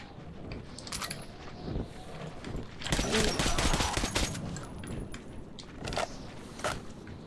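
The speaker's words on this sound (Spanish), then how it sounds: "Se están liando tiros por ahí." Gunfire in the video game Metro 2033 Redux, scattered bursts of shots at middling distance, some in quick clusters, with game ambience between them and no talk over the shots.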